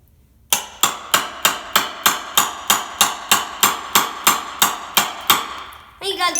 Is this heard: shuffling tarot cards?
no